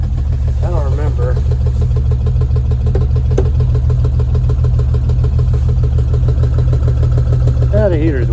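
A Chevy 216 engine idles after a winter cold start, a loud, steady low rumble throughout, with voices talking over it.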